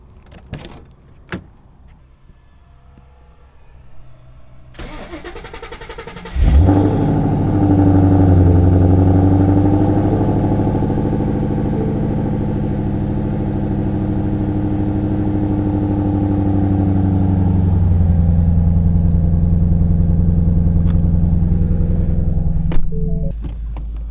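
Ford Mustang engine starts after a few quiet clicks and settles into a steady, loud rumble, then revs and drives on a cold morning, heard from inside the car with no talk.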